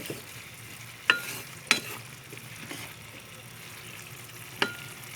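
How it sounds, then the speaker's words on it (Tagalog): Adobo, the Filipino dish, being stirred in a pan: a soft continuous sizzle under three sharp metallic clinks of a spoon against the pan, plus quieter scraping strokes, with no talking. "Haluin lang natin."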